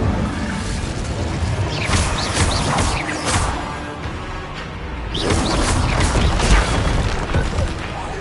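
Incendio fire spells are cast in Hogwarts Legacy, giving two broad whooshing, crackling bursts of flame amid loud combat noise, while a voice calls out spell names.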